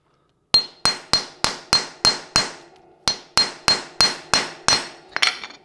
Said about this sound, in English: We put it in that side of the jig that's coned, and we're gonna get a few small taps.